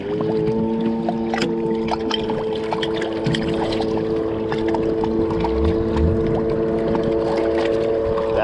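A Bombardier twin-engine machine, an 1100 X2, idles steadily with a rough, uneven drone because it is firing on only one cylinder; the motor runs continuously at close range with no one talking over it.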